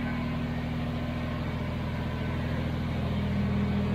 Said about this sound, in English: We're just going to start the tractor up and see if it goes through its motions.